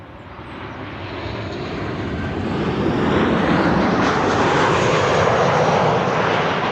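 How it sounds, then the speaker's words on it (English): A KLM Boeing 737-900 jet arriving at Amsterdam Schiphol gives a steady, broad engine roar that swells over the first few seconds and then holds loud and near to the end. "This is KLM flight 1932, arriving from Geneva in Switzerland"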